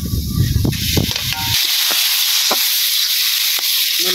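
Fish frying with spice masala in a village kitchen: a loud, continuous sizzle and hiss throughout, with clattering stirring knocks over the first second and a half and scattered sharp pops after.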